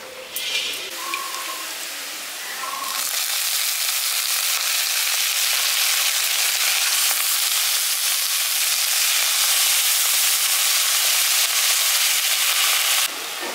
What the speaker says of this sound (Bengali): এবার ভিজিয়ে রাখা চালটা আমি দিয়ে দিচ্ছি।